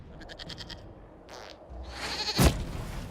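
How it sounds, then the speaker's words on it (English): A goat in the video game Dragon Age: Inquisition bleats in a short quavering burst, followed by a louder rising cry and a sharp thump near the end, over a faint game background. "we discovered this man attacking the building with a goat."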